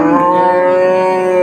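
A cow at a cattle market in Chiroqchi, Qashqadaryo, gives a single loud, sustained moo, deep and steady, very close and filling the whole moment without any talking.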